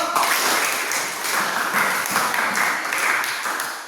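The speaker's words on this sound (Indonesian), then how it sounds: "Tepuk tangan dulu" A class of students applauds in a classroom, a continuous, moderately loud rattle of clapping hands sustained for about four seconds.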